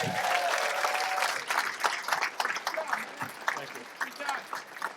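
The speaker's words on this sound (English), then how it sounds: "Give him a nice round of applause there." Audience applauding a comedian at the end of a stand-up set, a sustained burst of clapping with some cheering that thins and grows patchier over several seconds, with voices mixed in.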